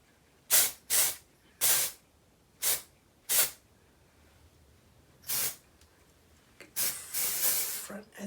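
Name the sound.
aerosol hair color spray being sprayed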